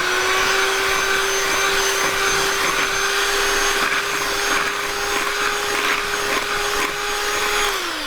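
An electric hand mixer whirs steadily and loudly through sour cream cake batter, a constant motor drone with a slight pitch sag near the end and no speech.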